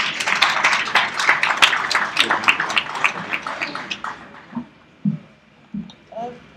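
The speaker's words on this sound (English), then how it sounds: "Thank you for the clap." Audience applause at an ICAZ Winter School presentation, a dense burst of many hands clapping close by that thins out into a few scattered claps and stops.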